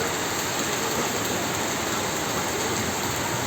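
Heavy rain driven by strong wind lashing the tables in front of a modern shop in Tangerang, Banten, a dense, constant roar of downpour at steady loudness with no voices.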